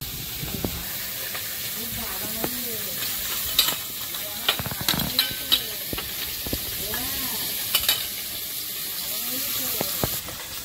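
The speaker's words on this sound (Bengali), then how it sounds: "উনুন জ্বালিয়ে মাছ ভাজা শুরু করে দিয়েছি" Tangra fish fries in oil on a stove, with a continuous faint sizzle and bubbling broken by repeated scrapes and knocks from stirring across about ten seconds.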